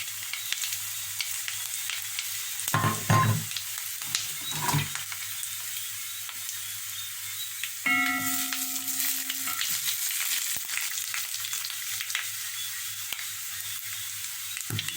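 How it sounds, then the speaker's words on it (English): Whole spices including black pepper, cloves and black cardamom sizzling in hot oil for Trinidadian black-eye cook-up rice, a steady close frying hiss with a few brief stirring clatters and no talk. "now that we get the sizzle"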